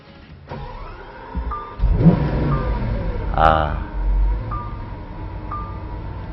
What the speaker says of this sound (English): Out on the racetrack, the Aventador is a monster, in the good ways. It takes off like a shot